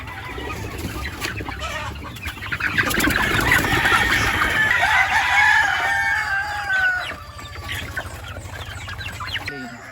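Brahma chickens crowing and clucking nearby on a small farm, a loud drawn-out crow rising in the middle amid scattered clucks and background rustle.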